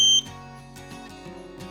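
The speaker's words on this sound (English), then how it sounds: "Buzzer continuously start sounding or switch press." Electronic panic alarm buzzer sounding continuously, a sharp high tone that cuts off and gives way to a repeating warbling electronic pattern, close and steady.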